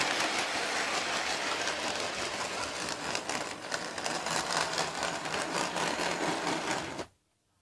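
A model train runs along the track toward the viewer, a steady, close, buzzing motor whir with fine rapid clatter that holds for about seven seconds and then stops abruptly into silence.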